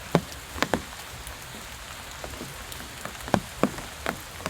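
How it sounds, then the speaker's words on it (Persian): Steady rain falling in a park makes a soft constant patter, broken by a handful of louder, sharper drops striking a nearby surface at irregular intervals. "صدای بارون خیلی لذت بخش،"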